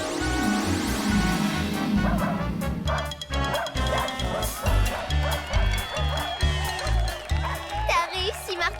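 A cartoon dog singing along with its master in a magic-show act, yipping, barking tones rising and falling in a tune over bouncy music, with voices in between.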